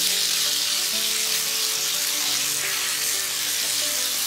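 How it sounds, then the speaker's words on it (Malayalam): Pre-cooked Kerala-style beef frying in a pan, a loud, constant sizzling hiss close by with a faint low hum underneath, no speech. "നമുക്ക് രണ്ട് ഭാഗവും നല്ലവണ്ണം ഒന്ന് ഫ്രൈ ചെയ്തെടുക്കാം."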